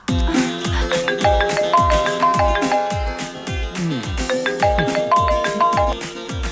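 A phone ringtone plays a repeating melodic tune over a thumping beat, loud and continuous, with no voices over it.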